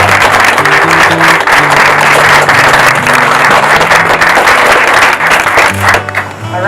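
Wedding guests applaud the newlyweds in a loud, sustained round of clapping lasting several seconds, with steady tones of background music playing underneath before the applause thins at the end.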